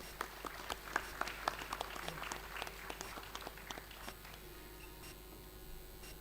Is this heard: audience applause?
yes